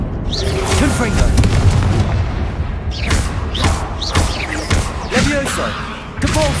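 A Confringo fire spell explodes in Hogwarts Legacy, giving several loud booming blasts among game sound effects, with a voice talking over the action.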